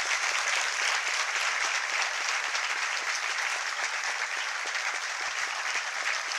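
Dense, steady applause from an audience at a ceremony carries on evenly throughout, close and sustained without talk.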